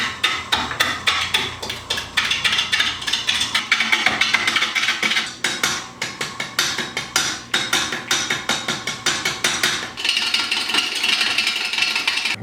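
A wood lathe turns a rough chunk of wood at around 200 RPM, the gouge striking the uneven blank in a steady, loud, rapid knocking rhythm that never lets up.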